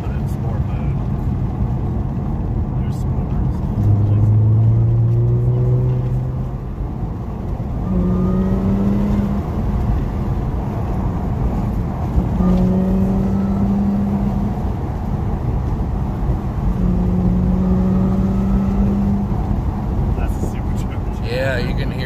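A 2014 Audi S5 engine revs in sport mode, rising and falling in several sustained pulls over steady cabin rumble while people talk in the car.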